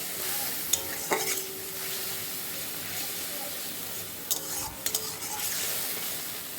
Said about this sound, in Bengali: তাতে পেঁয়াজগুলো দিয়ে ভেজে নিলাম